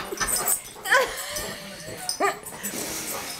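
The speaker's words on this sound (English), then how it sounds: "this is my puppy" A puppy whimpers in short, high, sliding whines, a few separate cries close by, while people talk around it.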